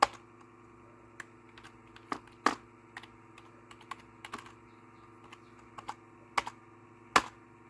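Password being typed on a computer keyboard at a locked BIOS setup screen of a Dell XPS 8500 desktop: scattered, irregular key clicks with short pauses, close and fairly quiet over a steady low hum, no talking.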